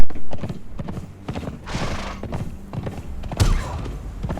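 Horse hooves clip-clop in quick uneven beats as a rider gallops in a video game, with a whinny and a heavy thud near the end, loud and close.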